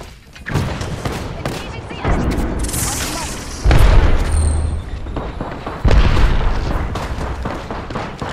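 Frag grenade thrown during an Apex Legends firefight, its loud booming blasts landing among repeated explosions and bursts of gunfire from start to finish.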